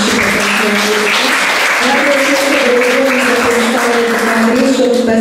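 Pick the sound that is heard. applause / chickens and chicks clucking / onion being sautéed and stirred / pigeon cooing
applause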